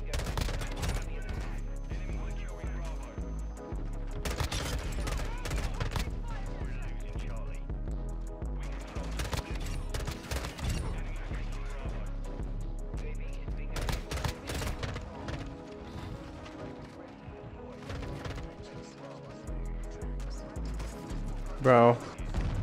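Rapid bursts of M16 gunfire in the video game MW2, repeated in clusters throughout with brief pauses between volleys, mixed with other game sounds at moderate loudness.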